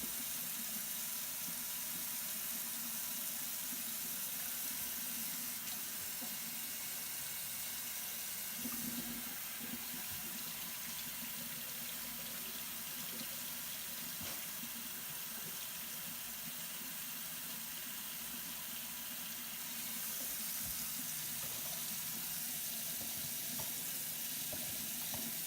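Running tap water rinsing colour motion picture film to remove its RemJet backing, a steady broadband hiss and splash that continues evenly and alone at close range throughout.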